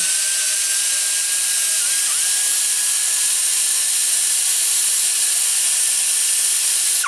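A die grinder with an abrasive stone ports a Chevy LT-1 cylinder head, a loud, continuous high-pitched whine and hiss held steady at close range, winding down at the very end.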